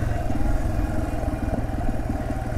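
A Yamaha TW200 dual-sport motorcycle riding on a backcountry trail, its single-cylinder engine chugging steadily at cruising speed with a rough, rhythmic note mixed with wind rumble.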